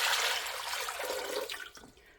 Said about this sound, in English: I'm going to add 2 quarts of water to my pan.